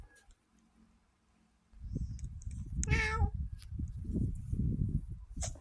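A pet cat gives one clear, close meow midway through, set against soft rustling and low handling noise in an indoor room.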